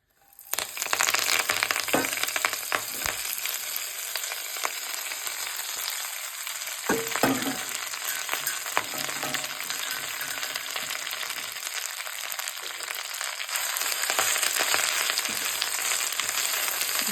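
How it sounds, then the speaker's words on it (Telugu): Moringa leaves fry in oil in a pan, a loud constant crackling sizzle with scattered crisp pops and a few rustling stirs, heard close with no talking. "బాండ్లీ పెట్టుకొని నూనె వేసుకొని ఫస్ట్ దీన్ని వేయించేసేయాలి"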